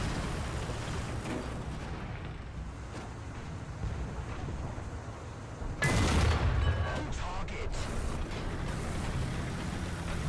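A tank destroyer's main gun in War Thunder fires once midway, a single heavy blast that rises sharply above a steady wind-like rumble and then settles back.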